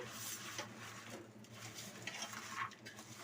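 Chicken biryani ingredients are squeezed and mixed by hand in a bowl, producing soft, continuous squelching and stirring sounds close up, with faint clinks of a vessel.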